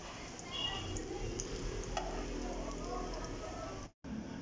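Shami kebabs fry in a pan with a steady, close hiss of sizzling oil and a few light scrapes, ending in a brief cut to silence before the sizzle resumes.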